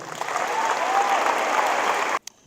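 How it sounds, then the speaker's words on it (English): Audience applause at a high school college signing ceremony, a dense steady clapping from a gathered crowd for about two seconds before cutting off abruptly. "So a big round of applause for Elena Meyer."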